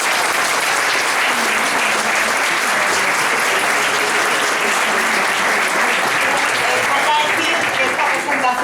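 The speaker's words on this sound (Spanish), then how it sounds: "Un aplauso." An audience at an industrial engineering awards gala gives loud, sustained applause, a dense wash of clapping from a large room that carries on at full strength throughout.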